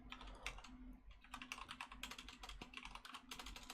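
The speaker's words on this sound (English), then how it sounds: "If I can type today," Rapid, uneven keystrokes on a computer keyboard during Ruby programming, close and fairly soft, with a steady low hum underneath and no talking.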